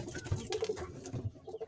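A pet pigeon coos in repeated low, throaty bursts, close and fairly loud, with a soft patter of movement around it and no talk.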